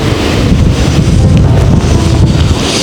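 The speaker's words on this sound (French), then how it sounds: "un petit coup de vent qui se lève" A strong gust of wind buffets the microphone during fly fishing on water, a loud, continuous rumbling roar with slight surges.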